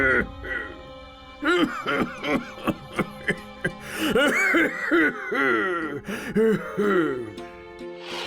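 A man coughs repeatedly in rough, throaty bursts, returning home sick and exhausted after long days of farm work in the fields; the close coughing bouts mix with voiced strained sounds over several seconds.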